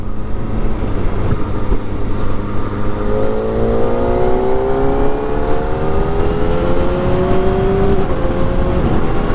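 A 16,000 RPM superbike cruises in sixth gear at 5,000 RPM with a loud, smooth, steady engine drone under heavy wind rush, its pitch gliding slightly upward partway through, no talking.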